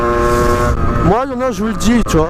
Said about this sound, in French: Oh, ça klaxonne.